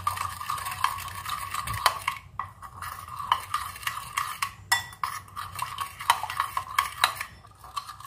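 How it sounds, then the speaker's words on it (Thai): A spoon stirs Japanese roasted sesame salad dressing made with mayonnaise and roasted sesame seeds in a bowl, giving soft, quiet scraping with scattered light clicks against the dish. "คนให้เข้ากันค่ะ"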